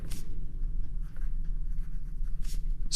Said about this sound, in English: So we'll take our card and we'll write